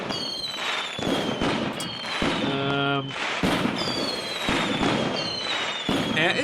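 Fireworks in the game Fireworks Mania burst continuously, sharp crackling bangs and fizzing whistles layered over each other, loud and close, with a voice talking over the barrage.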